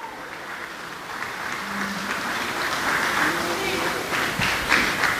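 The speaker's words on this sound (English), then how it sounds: "How about a big round of applause for parents of the groom, Chuck and Tamara Smith" Applause from a wedding reception crowd for the groom's parents: a broad wash of clapping that builds slightly and holds steady, with a voice speaking over it.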